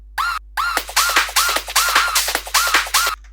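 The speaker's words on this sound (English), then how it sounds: "here I've got a whoop sound effect, which I have trimmed the end, made the last one a little bit longer" A trimmed whoop sound effect in FL Studio plays as a fast, loud run of rising and falling whooshing sweeps, about nine repeated bursts with short gaps and a longer final one.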